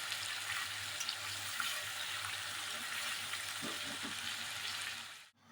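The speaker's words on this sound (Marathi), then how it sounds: "आपला कांदा टोमॅटो आणि खोबरं हे फ्राय झालेलं आहे बघा असं तेल सुटलं पाहिजे" Onion, tomato and grated coconut frying in oil for a Maharashtrian shev bhaji masala, giving a steady close sizzle that runs evenly throughout, with a few faint utensil clinks near the end before it cuts off.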